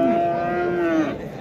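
A cow at a cattle market lets out one loud, drawn-out moo lasting about a second, close by, trailing off into faint background market noise.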